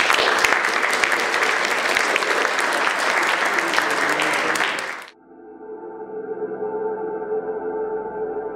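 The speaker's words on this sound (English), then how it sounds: "I'd like to give a warm round of applause for all of them" Audience applause at a panel discussion on the Occupy movement, dense steady clapping for about five seconds that cuts off abruptly, followed by a tonal electronic hum.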